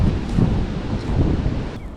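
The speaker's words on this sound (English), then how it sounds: "do y'all hear the wind?" Strong gusting wind buffets the microphone outdoors during a bass fishing outing, a continuous low roaring rumble that swells and eases, with no talking.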